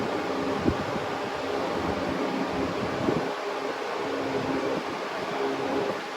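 A 1950s/60s Limit 16-inch desk fan running on high makes a steady broad whooshing roar of moving air with a faint motor hum, loud and unbroken throughout.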